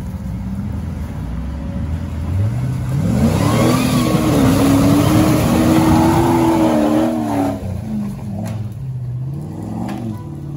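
An off-road vehicle pushes through rough terrain, its engine revving up into a strained, rising drone that holds for several seconds before easing off. The sound is loud and close.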